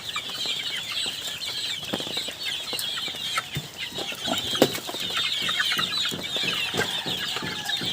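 Chickens and young chicks clucking and chirping in a farm pen on a cold day, a steady busy chorus of high calls and scattered clucks with occasional wing flaps, fairly close.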